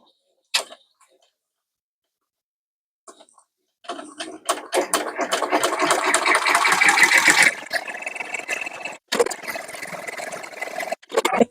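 A computerised embroidery machine stitches out a sailor bow for a customer order, running with a loud rapid mechanical whirring and creaking after a few brief knocks, pausing once before carrying on.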